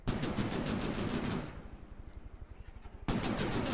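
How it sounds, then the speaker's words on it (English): Rapid bursts from a quad autocannon in From the Depths, loud and evenly paced, break off partway for a short lull of thudding impacts, then resume firing at full volume. "Quad autocannon one."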